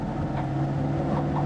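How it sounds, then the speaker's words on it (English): A hydrostatic tractor's engine labours under heavy load, creeping slowly during residential snow removal in northern Ontario; a steady, close, continuous low drone with an unbroken hum. "A tractor's really working hard, going really slow."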